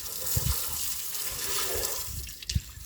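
Water pours and splashes into a container on a farm, a close, steady gushing flow with a few low thumps and sloshes.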